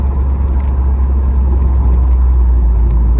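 A 1968 Firebird with a swapped-in 403 engine drives along the road, its steady, smooth engine drone loud and close with a deep low rumble throughout and no one talking.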